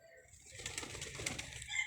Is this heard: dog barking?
no